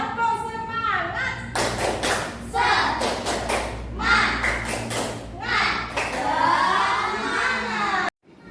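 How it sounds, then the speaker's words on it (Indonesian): Children in a classroom perform a rhythmic tepuk semangat spirit clap, with sharp, close clap bursts in patterned groups mixed with their loud chanting voices. "Tepuk semangat."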